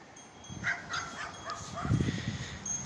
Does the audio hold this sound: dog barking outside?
yes